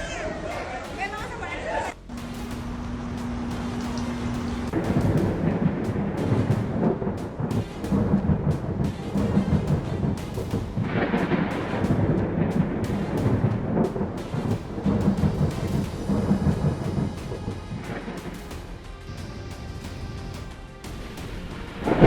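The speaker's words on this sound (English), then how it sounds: "In slow motion, bolts of lightning tore through Kansas City's stormy skies" A thunderstorm with lightning over Kansas City brings long rumbling thunder and rain noise across the whole stretch, loud and close, with a narrator's voice and some background chatter over it.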